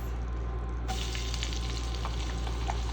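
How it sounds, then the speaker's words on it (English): Onions sauté in rendered fat in a pan, a dense, even sizzle that holds steady from start to finish with small crackles scattered through it. "Now we're sauteing the onions, but we're also bringing them to a point where they're caramelized"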